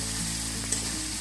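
Taro stolons, jackfruit seeds and dried chela fish are stir-fried in a hot pan. The oil sizzles steadily and loudly throughout, with a faint scrape of stirring partway through.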